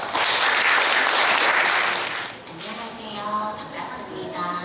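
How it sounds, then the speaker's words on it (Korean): An audience at a speech contest for people with deaf-blindness claps for about two seconds to welcome a speaker, then the clapping fades as a voice begins talking. "여러분 큰 박수로 환영해 주십시오."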